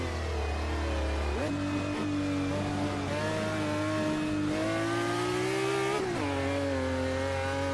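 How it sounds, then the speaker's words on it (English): A 1966 Ferrari 330 P3 V12 in a racing video game revs loud and close, its harmonic whine climbing through gears with a few sharp shift drops, steady and alone. "It was lighter and faster, but keeping that lovely V12 sound."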